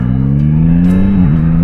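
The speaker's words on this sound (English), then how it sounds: "The quick shifter works very nicely also, and also down." A Yamaha Tracer 9GT motorcycle engine drones loud and close at a steady pitch, then dips briefly as the quick shifter snaps through a gear change.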